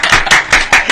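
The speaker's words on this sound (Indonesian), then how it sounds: "Tepuk tangan, Sengon." Hand clapping in a small, cramped studio during a live talk show: four quick, loud claps in a steady rhythm, close to the microphone and with no voices over them.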